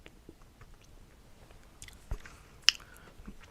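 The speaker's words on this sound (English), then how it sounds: "I think it's a good time for a pastry break." Someone eats a pastry close to the microphone, with soft, irregular chewing and moist mouth sounds and a couple of sharper bites standing out from a quiet background.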